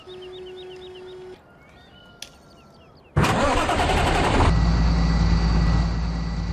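In Farming Simulator 15, after a quiet stretch with faint chirps, a heavy Fendt tractor engine cranks and roars to life, then settles into a loud, steady rumble.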